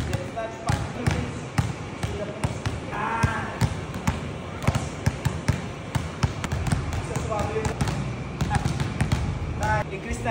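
A basketball pounded hard against a gym floor during a father-and-son dribbling drill, sounding as repeated sharp bounces in quick rhythm with a coach's voice and other talk going on around it.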